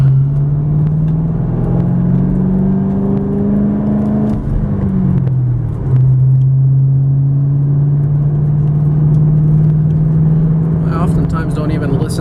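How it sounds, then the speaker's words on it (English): A 2005 Ford Mustang Roush engine hums at a steady low pitch from inside the cabin, rising and falling as it revs, with a deep exhaust drone throughout. "I want to listen to that exhaust tone and listen to this engine"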